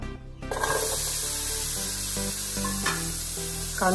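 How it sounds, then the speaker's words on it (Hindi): Onions sizzle and hiss in hot oil in a pan with spices for a prawn pulav, a loud, close frying crackle with stirring scrapes, no talking. "बरो तळसून घेवपाक जाय, मऊ जायसर"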